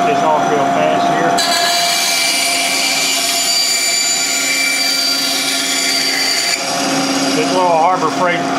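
A small Harbor Freight bandsaw with a 62-inch blade cuts through a Kydex sheet, a steady loud whine holding through the cut and dropping away briefly near the end before the motor hum returns.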